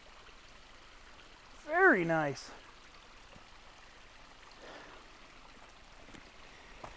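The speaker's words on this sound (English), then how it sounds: "there's a little water, a little creek running through here." Small creek running beside the Conejos Trail in Cuyamaca Rancho State Park, a soft, steady trickling wash in the background, with a short burst of nearby speech early on.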